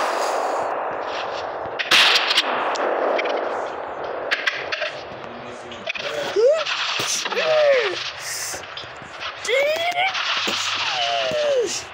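Gunshots from a video game ring out in a few sharp bursts over continuous game audio, with people talking and shouting throughout.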